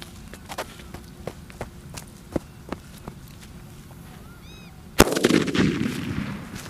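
A single loud Diwali firecracker bomb blast goes off after several sharp crackling pops, followed by a rumbling echo that fades out over a couple of seconds.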